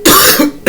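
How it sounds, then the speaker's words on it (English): A single close, loud cough bursts out in two harsh phrases, then a third hack starts right at the end, with no talk around it. "I'm coughing now in your reading"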